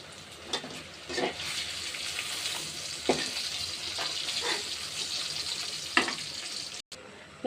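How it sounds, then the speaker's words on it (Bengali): Pointed gourd (potol) sizzles as it fries in oil, a steady hiss broken by several sharp clatters from stirring, with no talking. "তো আমার পটল ভাজা হয়ে গেছে, নামাই নেব।"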